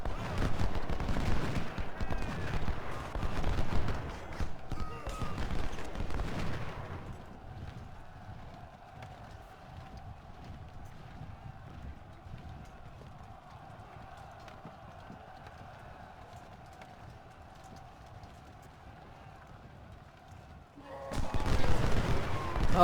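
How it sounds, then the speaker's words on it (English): Ultimate General: Civil War battle: a dense patter of musket volleys and hoof-like clatter at the start, then a quieter stretch with a sustained tone before the crackling gunfire returns loudly at the end. "Oh, he's shooting at Crocker."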